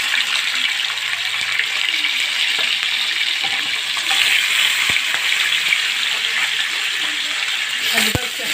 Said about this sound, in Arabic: خلي بالك انتوا بتحمروا